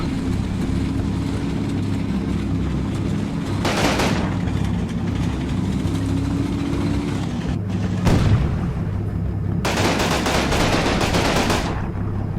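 Bursts of a tank's hull machine gun rattle out in the WWII strategy game Combat Mission, several short volleys spaced apart over a steady low battlefield rumble.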